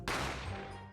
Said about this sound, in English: A gunshot rang in my ears.